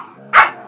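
A puppy gives a single short, sharp bark, close and loud, standing alone against a quiet background.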